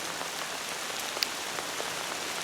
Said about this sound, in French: une bonne averse qui nous tombe sur la tête